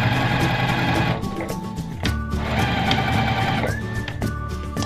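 A domestic sewing machine stitches a project bag in quick, steady whirring runs, pausing briefly as the fabric is turned at a corner, then starting again close and clear with no talking.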